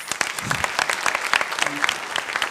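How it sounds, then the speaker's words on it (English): Applause at an award ceremony in a research park: a close, lively clatter of many hands clapping with distinct individual claps, and a brief voice in the middle. "Can I have a huge round of applause?"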